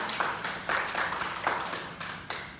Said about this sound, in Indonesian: Beri aplaus buat Mega.